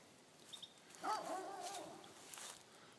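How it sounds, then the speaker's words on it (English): A neighbor's small dog barks somewhere up the hill outdoors, a faint distant yappy cry lasting under a second over quiet background hiss. "Got a little dog up there barking, one of my neighbors."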